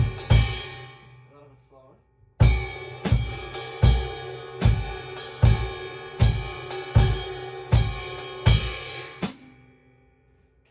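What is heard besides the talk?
jazz drum beat with bass drum, ride and hi-hat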